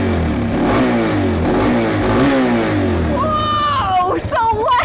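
Motorcycle engine revving as the throttle is twisted, a loud rising and falling mechanical roar close by, joined near the end by excited voices talking over it.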